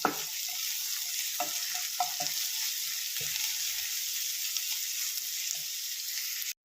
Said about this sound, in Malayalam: അതിലേക്ക് നമുക്ക് വെളുത്തുള്ളിയും ഇഞ്ചിയും കൂടെ ചതച്ച് വെച്ചത് ഇട്ട് കൊടുക്കാം.